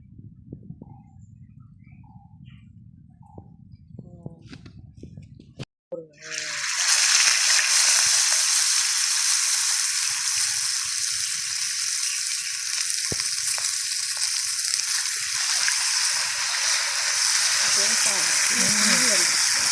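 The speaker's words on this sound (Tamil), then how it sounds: "மீனை பொரிச்சிக்கலாமா? அவ்வளோதான். எண்ணெயை ஊற்றி நல்லா பொரிக்கும்." Fish frying in oil outdoors in a family garden: after quiet moments with birds and faint talk, the fish drops in and a loud, steady hiss of sizzling oil takes over, with speech faintly beneath.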